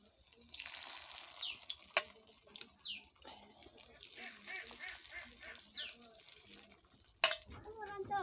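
Fish roe fritters fry in hot oil in a pan, a soft continuous sizzle with occasional sharper pops, while a person talks quietly over it.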